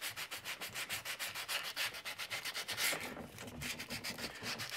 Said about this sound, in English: So, yeah, just gonna keep sanding this and blending it until it's a nice, even shape.